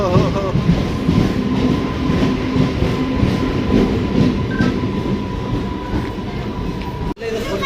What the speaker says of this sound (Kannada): ಈಗ ನೋಡಿ ಮೆಮು ಟ್ರೈನ್